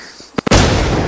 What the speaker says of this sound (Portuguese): tem uma granada aqui